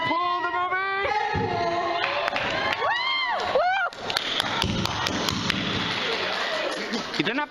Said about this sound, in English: You didn't have to clap in the microphone.